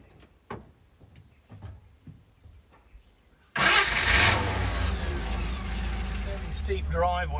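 A 1945 Lohner Dodge engine cranks and fires abruptly after a few seconds of quiet, soft background sounds, then settles into a loud, steady, rough running rumble close by.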